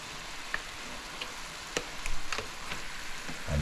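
Meat and vegetables sizzling steadily in a hot pan for a shepherd's pie, with occasional soft clicks and scrapes of a utensil stirring through the frying.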